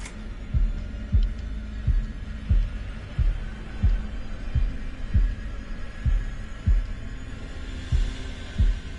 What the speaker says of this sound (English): if their heart beating like that, they're definitely don't have a healthy heart